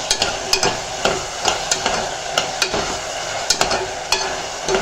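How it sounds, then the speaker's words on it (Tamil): Brinjal sautés in a pan for a spicy tamarind curry, a low sizzle punctuated by repeated sharp taps and scrapes of a spatula against the pan, close and steady, with no voices. "இந்த கத்திரிக்காயை போட்டு நல்லா வதக்கிக்கலாம்"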